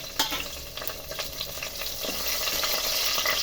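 Green chillies fry in hot oil with whole spices in a pan for bagara rice, a close crackling sizzle with occasional stirring scrapes that grows slightly louder, with no talking.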